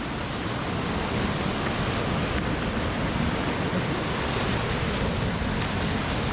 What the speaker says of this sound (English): Wow, these waves are so big.